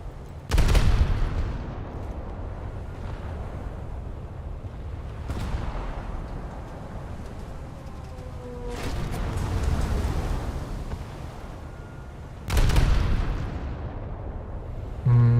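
Booming explosions from a naval battle in World of Warships, with a ship detonating near the Karlsruhe cruiser, three heavy blasts spread over a continuous low rumble of battle noise, with no voices.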